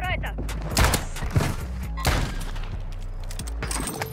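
Pistol shots in a shooter video game, a few sharp bangs scattered over a busy game mix with music and effects underneath, fairly close and moderately loud.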